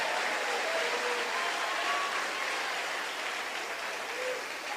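Sustained applause from a church congregation at a Sunday worship service, a steady even wash of clapping that holds at a constant level without breaks.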